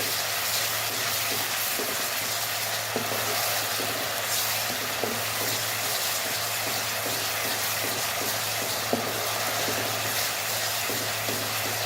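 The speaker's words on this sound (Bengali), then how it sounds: "পরে সব মশলাগুলো ভালো করে ভেজে নিতে হবে।" Spices frying for a village-style spicy country chicken curry, a dense continuous sizzle with a low steady hum underneath and faint irregular stirring ticks, loud and close with no voices.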